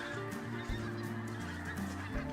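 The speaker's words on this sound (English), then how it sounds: "We were here at midday and this large flock of pink-footed geese flew in." A large flock of pink-footed geese honks continuously at midday, many overlapping nasal calls layered close and loud with no voices.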